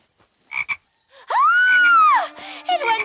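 A cartoon frog gives a loud, drawn-out croak after a couple of short clicks, ending in a throaty trailing rasp, close and clear.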